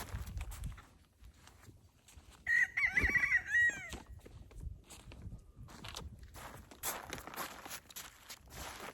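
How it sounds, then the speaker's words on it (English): A backyard rooster gives one clear cock-a-doodle-doo at middle distance, a few seconds long, set against faint outdoor rustling and footsteps, with soft clucking afterward. "They have a different crow."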